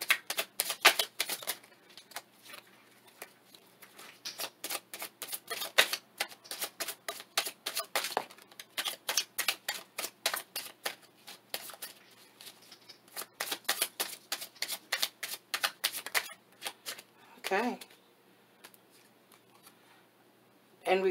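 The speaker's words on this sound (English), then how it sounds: "I'm hearing that I need to do a slide shuffle for this." Tarot cards are slide shuffled in rapid bursts, with dense rows of crisp, papery ticks and flutters up close and short pauses between runs. A faint voice briefly interrupts near the end.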